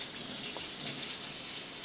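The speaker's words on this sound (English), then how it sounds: "And then I can rinse this so I don't get any peanut butter in it." Tap water running in a kitchen sink to rinse a cup, heard as a steady, soft, close gushing stream throughout with no speech.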